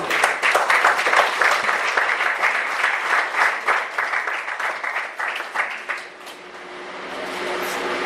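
Loud applause from a church congress audience fills the room, dense clapping that stays strong before thinning and softening toward the end.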